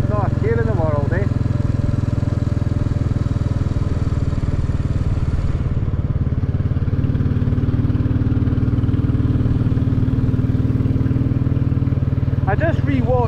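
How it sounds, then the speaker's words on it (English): A Royal Enfield Classic 350 motorcycle cruising in fourth gear at around 30 mph, a loud steady thumping engine drone with wind rush, heard close from the rider's position for the whole stretch, with brief speech at the start and end. "just bumping along 30 odd mile an hour, 4th gear, not a care in the world"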